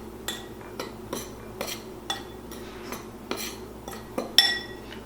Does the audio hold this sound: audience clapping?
no